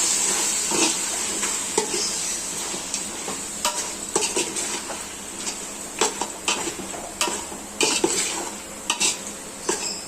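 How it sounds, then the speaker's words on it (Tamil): Mutton dum biryani ingredients with mint and coriander are stirred in a pot, giving a continuous sizzle broken by repeated scraping clinks of a utensil against the metal, close and loud with no talk. "எல்லாத்தையும் ஒரு முறை கலந்து விட்டுடலாம்."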